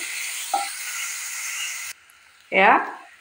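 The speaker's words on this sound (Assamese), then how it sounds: "এইখিনি মই ভালদৰে ভাজি ল'ম।" Ground ginger, garlic and onion paste fry in hot oil with a steady, close sizzling hiss that cuts off abruptly partway through, followed by a brief voice.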